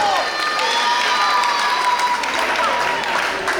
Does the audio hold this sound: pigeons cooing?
no